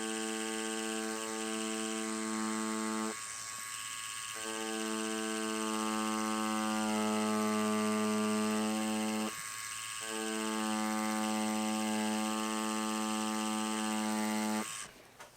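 A tattoo machine runs with its needle buzzing steadily, a close, continuous electric hum with a strong tonal drone, briefly changing character twice as the needle works through lines.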